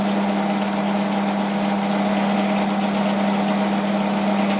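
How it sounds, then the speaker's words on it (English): A 6x4 bandsaw with coolant flowing runs steadily with a strong, constant motor hum and broadband whir, close and loud, with no talking. "startup is nice and easy, and then she'll just drop down with the coolant running"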